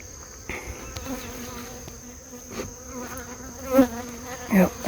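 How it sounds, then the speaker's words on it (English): Honey bees buzzing around and inside a hive box, a faint continuous drone with individual bees zipping close past at moments, louder passes near the end. "I hear them all buzzing from that one."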